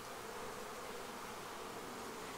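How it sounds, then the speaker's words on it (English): Dense, continuous buzzing of many honey bees at an apiary hive holding a healthy laying queen, a steady close swarm hum with no pauses. "there's a big population of bees here"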